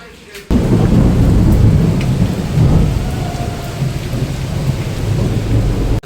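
Heavy rain pounding down steadily after a brief quiet start, with deep rumbling thunder rolling underneath, loud and close throughout.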